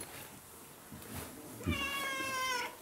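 A cat gives one clear, drawn-out meow close by after a second of quiet household background, rising and then fading.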